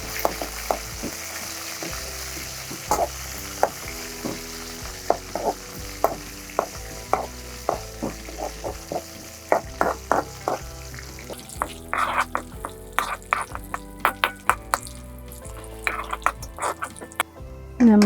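Mustard seeds, onions, curry leaves and chopped dried chilli frying in hot oil for a taro curry tempering, a steady sizzle under repeated sharp pops and clinks of stirring, growing busier toward the end.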